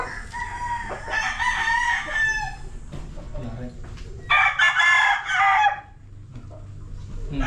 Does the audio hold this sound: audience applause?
no